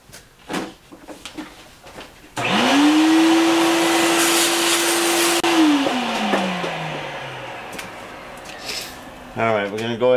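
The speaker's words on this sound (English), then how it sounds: "All right, get our vacuum." Shop vacuum switched on during a motorcycle rim repair, starting abruptly with a loud steady whine and broadband rush that holds, then winds down as it shuts off; brief voices come before and after.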